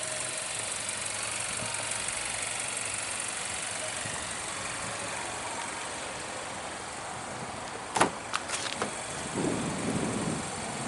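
A 2017 Buick Cascada's 1.6-liter four-cylinder engine idles quietly and evenly in a steady low hum, interrupted near the end by a few short clicks and a brief rustle.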